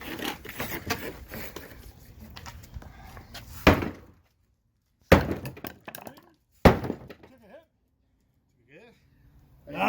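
Glass of a huge 2200-gallon aquarium being smashed: loud, sharp impacts and crashes separated by silences, with people talking and exclaiming between the blows.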